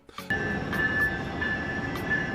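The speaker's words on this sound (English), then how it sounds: "the train goes by every few minutes at night" A train passes close to an oceanside pier resort at night, a sudden onset swelling into a steady loud rumble with a sustained high tonal whine and faint rhythmic clacks.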